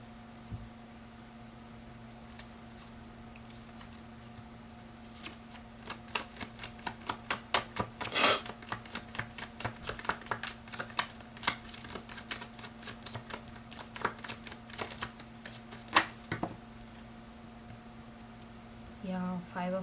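Tarot cards are shuffled in a rapid run of crisp riffling snaps and clicks that come in bursts over a steady electrical hum, with a few louder slaps and some faint talk.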